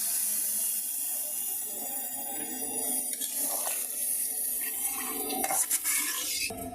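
Liquid is poured into a simmering carp fish curry with pointed gourd in a pan. It makes a steady close gush with a hissing sizzle underneath, continuous throughout and with no voices.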